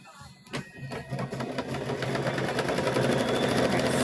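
A sewing machine stitching fabric down onto an abstract quilt, a few brief starts of needle clatter that build into a steady, close, fast running whir.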